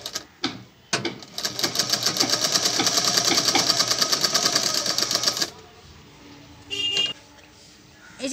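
A sewing machine stitches pink teddy bear fabric in a fast, steady, loud run of needle strokes lasting about four and a half seconds, then stops, leaving quiet room tone with brief handling clicks.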